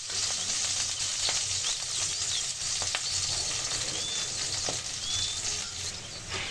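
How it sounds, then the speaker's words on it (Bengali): Continuous hissing sizzle of garlic cloves frying in hot oil, with occasional faint taps and crackles, close and steady throughout without any talking. "রসুনগুলো আমি হালকা বাদামি বর্ণ পর্যন্ত ভাজবো।"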